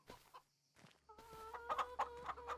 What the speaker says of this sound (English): unload our chickens into the coop right here